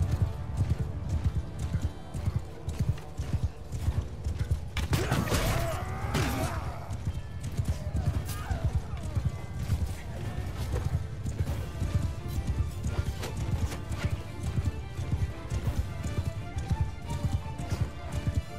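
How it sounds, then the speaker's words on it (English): Cavalry horses gallop in a Mount & Blade II: Bannerlord battle, a dense, steady clatter of many hooves with occasional neighs and crashes of combat, fairly quiet throughout. "Oh, these are all horses."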